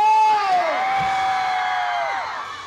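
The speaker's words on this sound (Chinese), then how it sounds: "信义区的朋友们给我一声尖叫好不好？" A concert crowd at an outdoor show in a Taipei Xinyi District parking lot screams and cheers loudly, a dense sustained roar of high-pitched voices that swells and slowly tapers off.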